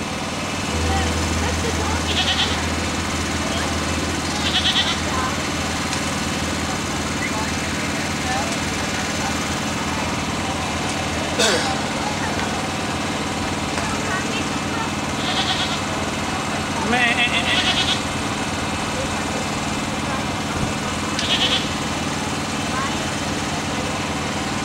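A goat bleats several times at a summer carnival, short cries rising over a constant wash of crowd noise and music, with an engine idling low underneath.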